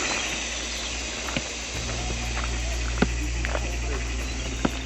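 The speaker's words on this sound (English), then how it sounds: "the noise that's coming from that tree, these little bugs, they're so loud" Cicadas drone loudly from a tree in the Bali jungle near a waterfall, a continuous high shrill whine with a few faint clicks and a low rumble beneath.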